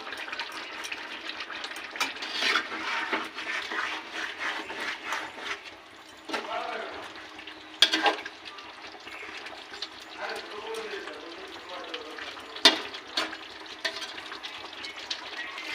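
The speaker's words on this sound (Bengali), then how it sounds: "একটু জল দিয়ে দেওয়া হলো" Water splashes and trickles into a pot of chicken biryani being cooked at home, a broad wet hiss with brief louder pours, with a person talking over much of it.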